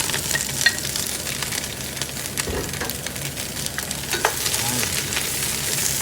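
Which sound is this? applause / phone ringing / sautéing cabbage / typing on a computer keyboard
sautéing cabbage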